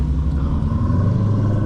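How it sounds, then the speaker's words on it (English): Supercharged stage 2 V6 engine with straight-piped exhaust on a 2013 Dodge Durango R/T, a steady loud low rumble and drone heard close up, continuous with no speech. "You see how his car sounds like?"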